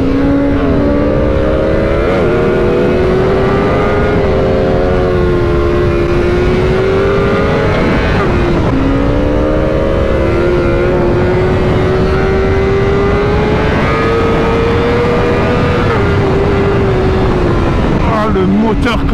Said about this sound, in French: Le moteur quand il monte dans les tours